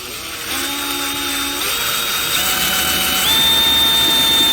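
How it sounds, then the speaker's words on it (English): A large drill bit slowly drilling out a metal rivet at low speed, a steady close whine that builds gradually in loudness and pitch as the bit bites into the metal. "And more drilling noise."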